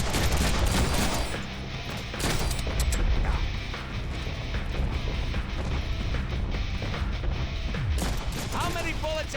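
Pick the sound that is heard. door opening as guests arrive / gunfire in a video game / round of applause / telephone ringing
gunfire in a video game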